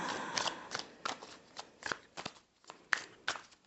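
Tarot cards being shuffled nearby in quick bursts of crisp riffling and snapping, pausing briefly between shuffles, with no voices.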